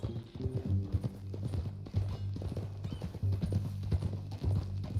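Horse hooves clip-clop in a steady walking rhythm in the video game Red Dead Redemption 2, moderately close, with a low droning tone underneath.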